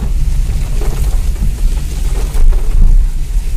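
Heavy monsoon rain in Mussoorie, India roars close by in a dense, rumbling wash, loud and continuous with a swell near the end; no one speaks.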